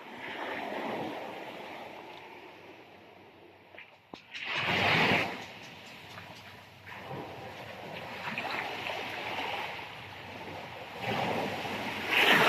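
Large sea waves roll onto a beach, a rushing surge that swells loudly midway and again at the end, with lighter wash and wind noise between the breaks.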